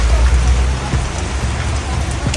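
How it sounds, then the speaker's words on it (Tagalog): Heavy rain drums loudly and steadily on a minivan in Malaybalay City. The dense patter of drops continues throughout, with no voices. "Medyo malakas yung ulan dito mga boss."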